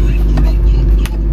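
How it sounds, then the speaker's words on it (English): A fully optioned 2003 Honda Accord idles steadily up close, a continuous low engine drone with a brief thump partway through and faint background talk. "With the car running."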